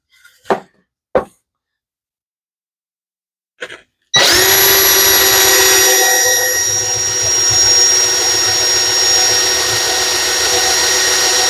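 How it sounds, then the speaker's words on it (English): A power drill bores a hole in wood near the end of a board, a few short clicks and taps first, then a loud, continuous whining drill run that holds steady for about seven seconds. "so we're going to drill our hole"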